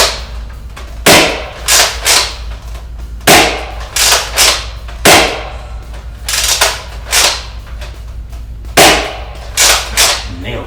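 A Nerf Rival Helios blaster fires standard Rival rounds in loud, close, sharp bursts, several groups of two or three snappy shots with short pauses between them and a low steady hum underneath.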